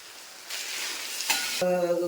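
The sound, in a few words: potatoes frying in a pan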